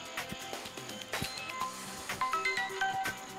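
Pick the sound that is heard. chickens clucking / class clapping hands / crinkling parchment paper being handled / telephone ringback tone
telephone ringback tone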